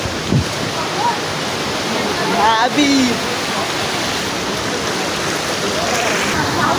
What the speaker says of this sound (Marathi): तर बघ इकडून पाणी येतंय